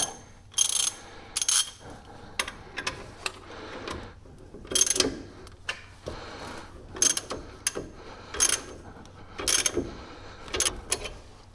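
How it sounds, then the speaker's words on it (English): Ratchet tightening the lower ball joint nut on a 2018 Chevrolet truck: spaced bursts of sharp metallic clicking, each stroke a short rattling run, close by and alone, repeating about every second or two. "So I'll start with using the ratchet."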